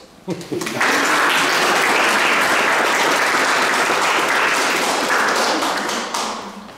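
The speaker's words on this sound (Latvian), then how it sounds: "Igor, ar lieliem aplausiem mēs tevi lūdzam nāc." An audience at a photo exhibition applauds loudly. The clapping swells quickly and holds as a dense, close wash of many hands, with some voices briefly mixed in, then starts to taper off at the end.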